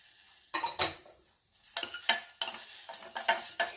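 Crushed black pepper and cumin being dry roasted in a pan for a homemade cold and cough remedy: a series of close, sharp scraping stirs with a faint crackle between them.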